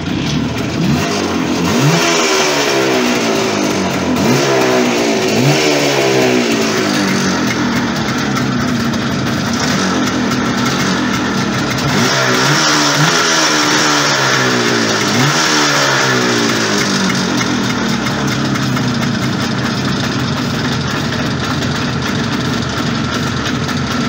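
An engine turns over and catches, then revs repeatedly in rising and falling sweeps, loud and close throughout, with a rough idle between the revs.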